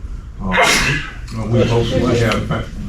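Someone in a special called board meeting lets out one sharp, loud sneeze close to the microphone, and a speaker carries on talking right after.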